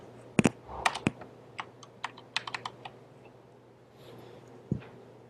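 Someone types a command on a computer keyboard, a sparse run of crisp key clicks in uneven bursts with gaps between them, close and quiet with no speech.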